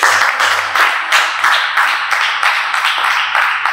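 A church congregation claps in steady, rhythmic unison at a Christian worship service, loud and close, a sustained beat of hands with no talking over it.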